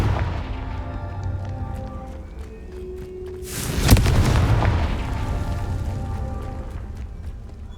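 A Confringo blasting spell bursts in Hogwarts Legacy, a single loud booming explosion midway with a broad crackling flare and rumbling tail, over a bed of game ambience and scattered footstep-like clicks.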